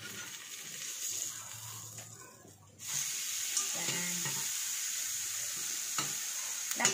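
Butter sizzling in a hot pan on low heat while a spicy sandwich is being made, a steady, quiet frying hiss that briefly dips, then returns fuller with faint clinks.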